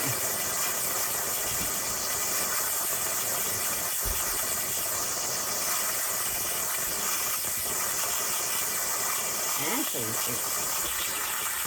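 An Instant Pot vents steam while cooking homemade dog food, giving a loud, steady, unbroken hiss that fills the whole stretch, with faint voices underneath.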